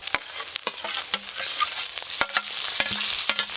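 Spices and grated tomato frying in a pan while being stirred for a Bengali tilapia oil-chili curry, with close, moderate sizzling and sharp scraping clicks of the spatula recurring at an irregular pace.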